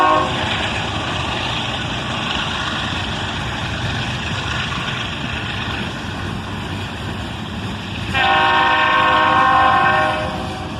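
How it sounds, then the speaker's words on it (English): Two GE diesel locomotives, an ES44AC and an AC44CW, rumble steadily as a train gets moving, engines droning loudly, then a blaring horn sounds near the end. "Look at the smoke billow as these two big GEs work hard to get the train moving."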